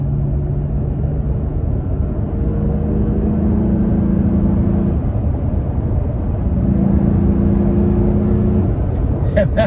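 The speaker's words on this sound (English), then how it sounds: "You can hear the truck at just a cruise." A Toyota Tacoma truck cruising in third gear, a loud, steady engine drone and low road rumble heard from inside the cab with faint wavering hums, no talk.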